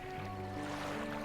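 A boat engine in the DREDGE video game, a low droning hum with steady tonal harmonics under a soft watery wash, continuous and moderately quiet.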